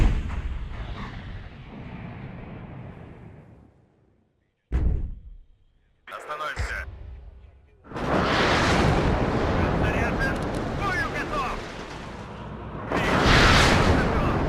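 Artillery and guns fire together in the WARNO wargame, with a long rolling barrage that fades out, then sharp separate blasts, followed by sustained heavy roaring fire and another loud burst near the end.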